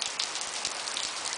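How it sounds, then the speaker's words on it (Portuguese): Rain falls steadily in a dense, even hiss of many drops striking a surface, close and continuous throughout, with no voices. "A chuva, com seus pingos de cristal, tão bela."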